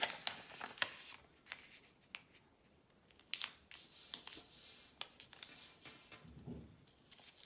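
Sheet of origami paper folded in half for a butterfly, with soft crinkles, creases and brief rustling taps scattered across the clip, close and fairly quiet, no talking.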